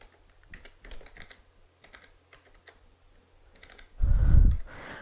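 Soft, rapid tapping on a computer keyboard, with irregular bursts of keystrokes close to the microphone in a quiet room, plus a louder thump and brief noise near the end.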